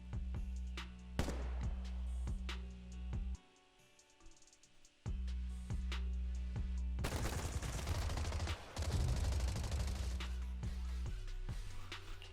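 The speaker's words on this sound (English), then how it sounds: "Gunfire? This pattern. Suppressive marching fire." Rapid bursts of suppressive marching gunfire in Zenless Zone Zero crackle in repeated volleys, with a brief quieter gap, then a dense sustained barrage.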